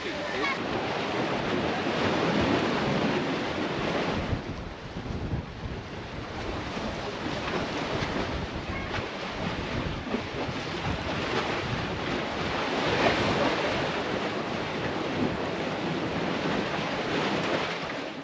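Black Sea waves wash steadily onto a beach in Romania, a loud continuous roar of surf with gusts of wind buffeting the microphone.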